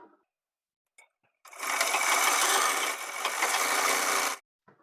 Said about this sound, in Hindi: आधा इंच का मार्जिन लेकर हम इसमें सिलाई लगाएंगे।